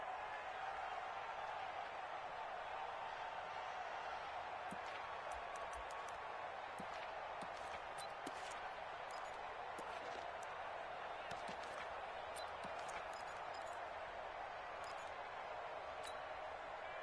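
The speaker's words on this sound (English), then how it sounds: "The crowd here in the Dome making things difficult." Steady roar of a stadium crowd inside a domed arena in the Madden football video game, loud and continuous throughout, with faint thumps and sharp clacks scattered over it.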